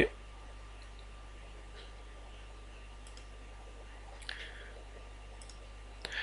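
A couple of soft computer mouse clicks sound while applying settings, isolated and brief against a quiet, steady electrical hum.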